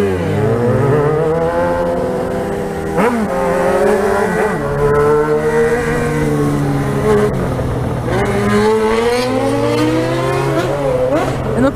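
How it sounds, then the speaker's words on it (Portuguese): A Yamaha XJ6 motorcycle revs hard and loud close by, its engine note climbing and falling in repeated sweeps over about twelve seconds, with a steady roaring drone between the surges. "Essa moto berra muito."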